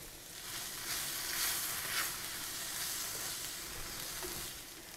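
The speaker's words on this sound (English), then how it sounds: "my milk is starting to simmer" Milk simmers in a small sauce pot on a lit stove, giving off a soft, continuous bubbling hiss that swells slightly and then stays even and fairly quiet.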